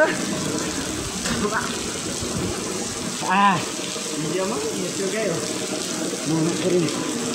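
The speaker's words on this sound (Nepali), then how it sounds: "पानी परिरहेछ।" Rain falling outdoors as a steady wash of water that keeps going throughout, with voices talking over it.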